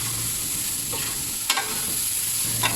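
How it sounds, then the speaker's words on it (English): Vegetables frying with turmeric and Kashmiri red chili powder for vegetable tehri, a steady close sizzle with a few light stirring scrapes, no talking. "after 2 minutes of frying this, we'll add turmeric powder, Kashmiri red chili powder, and fry this further for a minute"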